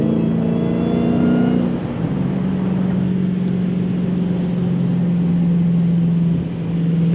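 A Dodge Hellcat Redeye accelerates hard on a night drive, its engine a loud, close, sustained drone that rises through the gears with a brief dip between shifts.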